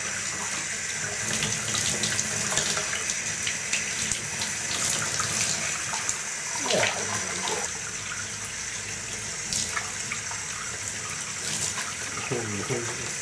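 Steady running water from a tap fills a bath while guinea pigs are washed, a continuous close hiss and splash with occasional soft clunks and quiet voices underneath.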